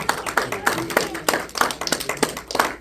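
Church congregation clapping during a Spanish-language evangelism sermon, a loose series of close, sharp claps in uneven rhythm, some overlapping, with faint voices beneath.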